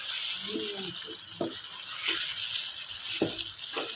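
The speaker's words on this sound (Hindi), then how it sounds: "जब तक चिकन फ्राई हो रहा है" Chicken frying in a pan for achari chicken, a steady sizzling hiss with a few scraping stirs and clinks of a utensil.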